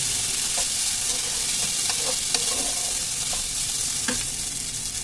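Sago pearls (sabudana) stirred in a hot frying pan give a steady sizzle with a few soft scraping clicks from the spoon, close up and with no talk.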